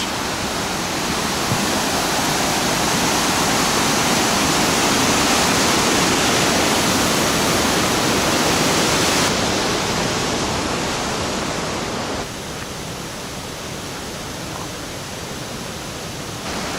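A waterfall roars steadily as a dense, broadband rush of falling water, loud and constant, easing slightly toward the end.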